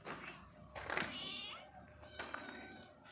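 Pet cats meowing and crying for a sardine fish head, several loud wailing calls close by, two main bursts with a faint voice in between.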